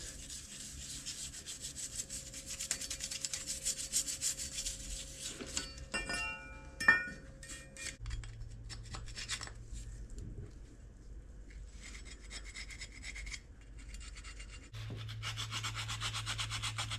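An Alfa Romeo Giulia Veloce rear brake caliper bracket is scrubbed clean, with soft repeated rubbing and brushing strokes, a few light metallic clinks partway through, and quiet pauses between bursts of scrubbing.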